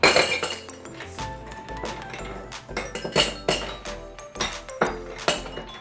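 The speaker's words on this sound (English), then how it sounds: "Now we're gonna put some ice in our shaker." Ice cubes clink and rattle into a cocktail shaker while Jamaican rum punch is mixed, a dense run of close, bright glassy knocks and clatters, loud and continuous, with no talk.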